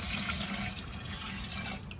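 A honey garlic mix pours slowly into a Can Cooker, a soft continuous liquid trickle with faint splashing, close by and without talk.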